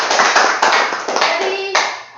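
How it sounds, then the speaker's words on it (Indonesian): A group gathered for a school teachers' program claps their hands in quick, uneven bursts that fade toward the end, with faint voices mixed in. "mari kita tepuk tangan dulu."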